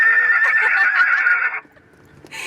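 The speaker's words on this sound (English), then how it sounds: "Yeah, I like the horse horn." A horse-neigh car horn on a restored car sounds one loud, close whinny lasting about a second and a half, followed by a brief quiet gap and a faint shuffle.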